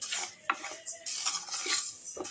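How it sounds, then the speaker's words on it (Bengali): Moong dal being stirred in a dry wok, a close rustle and scrape of grains with light metallic knocks from the spoon against the pan, continuous and unhurried, with no voices. "এটাকে আমি শুকনো কড়াইতে একটু ভালো করে নাড়াচাড়া করব।"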